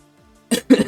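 Two quick, close coughs in a row from someone who has been sick for a few days, sharp and breathy against a quiet background.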